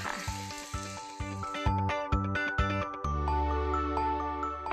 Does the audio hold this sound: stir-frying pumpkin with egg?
yes